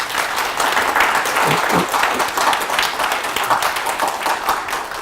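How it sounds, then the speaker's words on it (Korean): A lecture audience in Jeju claps together in a full, lively round of applause, dense and close for several seconds. "이럴 때 박수 한번 쳐주시면 얼마나 고마워"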